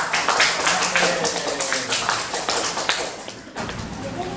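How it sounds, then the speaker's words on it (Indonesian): Primary school pupils in a classroom clap for the class 4 students, a rapid, fairly loud patter of many hands that fades toward the end, with voices mixed in. "Tepuk tangan dulu dong bagi siswa kelas"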